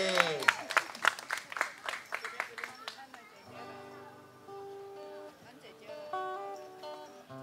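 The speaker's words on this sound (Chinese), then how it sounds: "掌声鼓励一下。" An audience at a live song performance bursts into a dense round of clapping for about three seconds, the applause fading as music and voices take over.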